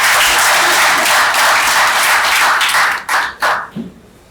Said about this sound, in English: Can we appreciate him with a clap, please?